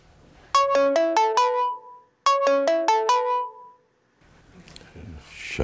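A phone ringtone plays a bright, repeating descending chime melody twice, loud and close, with the call going unanswered; after it stops, low rustling and movement follow.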